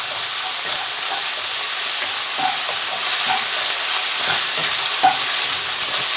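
Beef ho fun noodles sizzle hard in a hot pan, a loud continuous fry with small scrapes and clinks as the noodles are flicked and tossed, no voices.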